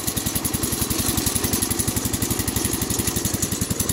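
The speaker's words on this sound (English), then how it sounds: "I'm almost going to stall the tractor out." A Wheel Horse Charger 12 garden tractor hauling a John Deere #15 cart loaded with old carpet chugs hard, its engine labouring close to stalling with a steady rapid thumping pulse throughout, loud and near.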